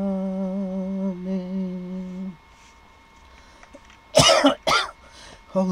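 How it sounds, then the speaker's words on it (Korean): A few sharp, harsh coughs close by after a steady tone fades out, bursting out in quick succession. "기침이 나오네요."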